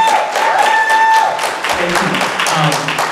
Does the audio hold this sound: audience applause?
yes